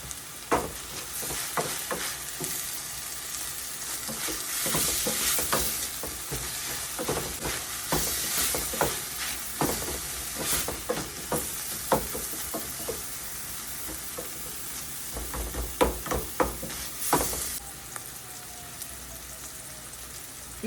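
Frozen cooked prawns fry with salt in a hot pan, giving a steady, close sizzle with crackling pops and occasional scraping stirs, no voices.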